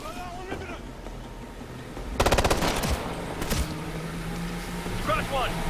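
A hostile turret in Ghost Recon Future Soldier lets off a burst of rapid machine-gun fire in the middle of the clip. The shots come as a quick staccato string over steady combat ambience, and radio voices sound at moments.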